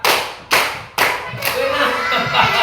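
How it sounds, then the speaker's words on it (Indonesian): Three sharp, close hand claps spaced about half a second apart during a counting clap game, then a busy wash of further clapping and faint voices. "Tepuk tangan 3."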